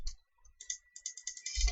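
Rapid typing on a computer keyboard, a close series of crisp key clicks in quick irregular bursts, growing denser and louder toward the end, with no speech.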